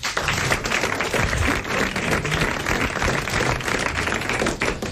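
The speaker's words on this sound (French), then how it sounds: "Monsieur Lombec d'Ambèze a mérité vos applaudissements" A television studio audience on a French game show claps for a winning contestant, a dense, close, continuous patter of hands with no talk over it.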